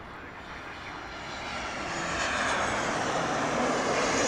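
A UPS plane and a Southwest flight at Las Vegas airport: a broad, steady aircraft engine roar that slowly swells louder, with no voices.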